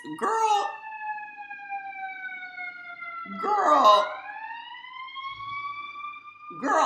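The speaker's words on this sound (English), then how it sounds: "Siren, leave." A siren wails in long sliding tones that rise and fall, with a short spoken bit and bursts of voices at the start, middle and end.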